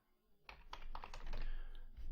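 Fingers patter on a computer keyboard, entering a value in game-engine material settings; quiet, close clicks running for about two seconds with a low hum beneath.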